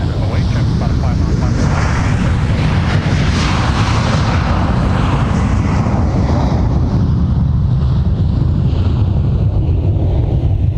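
A Delta jet airliner departing an airport thunders loudly and close, a dense engine roar with a sweeping hiss that rises and then fades, while a voice speaks over it.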